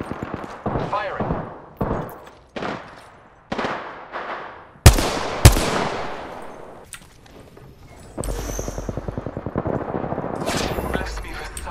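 Gunfire from the Apex Legends video game: short bursts of automatic fire and a couple of sharp single shots, followed by a longer rapid stream of fire, fairly close and loud, with occasional game voice lines.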